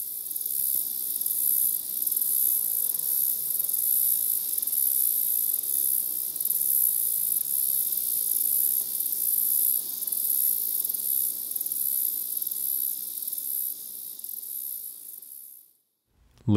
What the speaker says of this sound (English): Iowa, Crickets Cicada Road